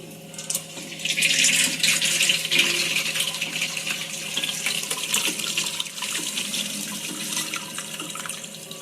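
Water is strained off soaked ground wheat for kurdai, a steady hissing pour and trickle that runs continuously at close range.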